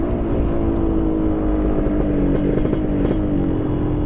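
Yamaha RX-King two-stroke motorcycle fitted with a replacement aftermarket exhaust, revving steadily and loudly up close, a continuous raspy engine drone with a slight rise and fall in pitch throughout, no voices.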